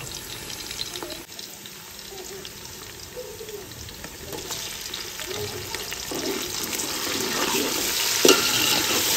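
Spices frying and browning in a pan on a stove, a close, continuous low sizzle with scattered stirring scrapes that grows slightly louder toward the end, no talk.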